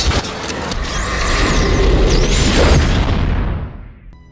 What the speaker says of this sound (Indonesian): akhirnya ledakan EMP memadamkan seluruh robot Sentinel